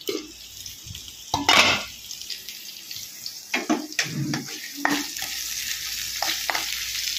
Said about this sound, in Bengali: একটু দেখি, আলুটা একটু নেড়ে দিই।